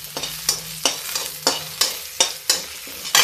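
Sprouted fenugreek seeds roasting in a pan, sharp rhythmic scraping stirs about every half second over a light sizzle, close and fairly loud, no talking.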